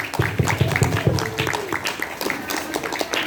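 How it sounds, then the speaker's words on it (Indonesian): An audience claps at a student arts-performance stage show at Pondok Pesantren Darul Muqomah in Pekanbaru, with steady, fairly rhythmic hand claps filling the hall and faint crowd murmur beneath. "Boleh kita apresiasi dan tepuk tangan."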